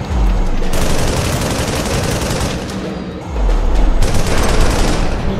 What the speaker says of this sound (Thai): มันยิงทางนี้ได้ยิงทางนี้